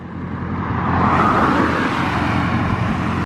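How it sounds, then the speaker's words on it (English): A 2021 widebody Dodge Charger Scat Pack with fully straight-piped exhaust roars past close by, its loud engine note swelling and holding steady before cutting off abruptly. "Y'all want to hear a little Chevy flyby?"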